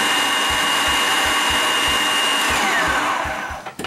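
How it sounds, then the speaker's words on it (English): A food processor grinds nuts, seeds and garlic with onion and celery for a raw vegan pâté, a loud steady whirring motor with rhythmic thumping as the chunks tumble, then winding down at the end. "Grinding my nuts, my seeds, and the garlic, along with the other ingredients."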